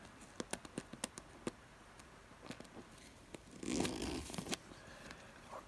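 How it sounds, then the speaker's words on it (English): Zipper being cut during shoemaking, heard as a quick series of sharp snips and ticks followed by a brief rougher rasping burst, close and fairly quiet. "I'm gonna cut the zipper down here."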